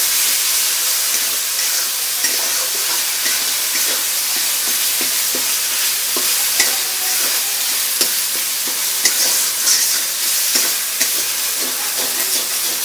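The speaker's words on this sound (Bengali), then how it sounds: "এখন জাস্ট একটু নাড়িয়ে নেবে খুব সুন্দরভাবে" Egg curry being stirred in a pan with spices, producing a steady hiss and sizzle throughout, with soft scraping strokes of the spoon rising at intervals over the constant frying noise.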